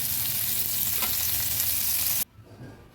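Shrimp frying in oil, a steady loud sizzle with no talk that cuts off abruptly near the end, leaving a quieter background.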